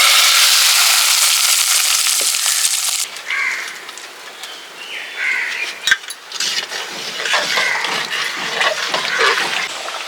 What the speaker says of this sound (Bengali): আমি ফোড়নটা দিয়ে দিচ্ছি।